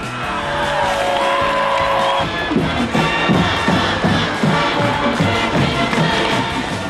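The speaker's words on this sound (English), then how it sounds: "Little Cyclone fans have plenty to cheer about." A dense, loud crowd of high school football fans cheers and yells in the stands at an Ames game, a steady roar with whoops rising above it.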